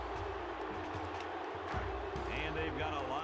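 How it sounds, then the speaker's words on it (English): Crowd booing in the NCAA 06 football video game, a steady, dense stadium roar running throughout with voices talking over it. "Crowd's not happy."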